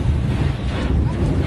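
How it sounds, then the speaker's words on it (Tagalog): Heavy, continuous roaring rush of water from a China Coast Guard water cannon blasting a BFAR vessel at sea, loud and close, with wind buffeting the microphone. "Sobrang lakas ng water cannon."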